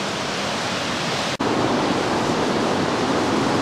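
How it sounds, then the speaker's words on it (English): Waterfalls pour into a rocky gorge in a national park, a steady, loud, broadband rush of falling water with one brief dropout partway through. "It looks like they did it at these waterfalls here."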